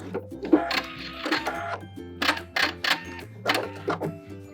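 A sewing machine backstitches a seam on jeans in short, loud motor bursts that whir, pause and restart close by, with the pitch shifting as it changes direction.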